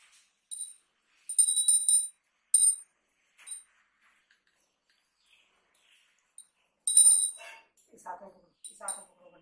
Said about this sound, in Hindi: जाओ घंटी घंटी बजाओ रे